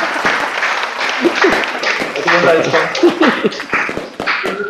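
Audience at a gym prize ceremony clapping, steady crowd applause with sharp individual hand claps close by, with someone speaking over it partway through.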